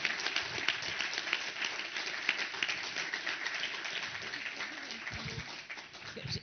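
Audience at an innovation award ceremony applauding the candidates, a steady dense round of clapping from many hands, with some voices mixed in.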